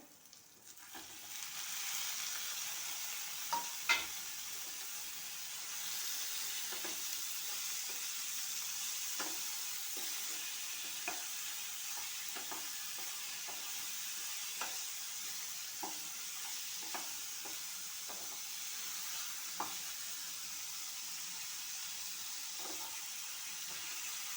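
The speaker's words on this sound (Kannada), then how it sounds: "ಟಮಟೆ ಹಣ್ಣು ಕೂಡ ಹಾಕೋಣ ಇದು ಮೂರು ಟಮಟೆ ಹಣ್ಣಿದೆ" Tomatoes fry in a pan with a constant close sizzle, broken by scattered scrapes and taps of a spoon stirring at irregular intervals, and no talk throughout.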